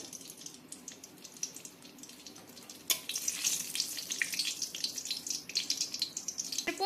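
Bay leaves drop into hot white oil in a kadai for chicken curry, setting off a steady close sizzle that jumps sharply louder about halfway through and keeps crackling, with faint clinks of a utensil.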